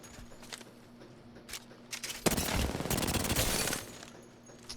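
Gunfire in the video game Apex Legends: a few scattered single shots, then a dense, loud burst of rapid automatic fire lasting over a second before easing back to sparse shots.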